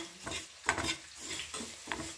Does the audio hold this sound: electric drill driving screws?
no